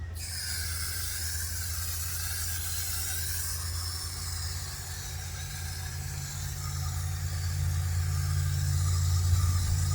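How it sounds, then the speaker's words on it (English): A continuous hissing spray of water onto a tomato plant runs for several seconds over a low, steady hum, growing slightly stronger toward the end. "I'm going to give this another spray of water."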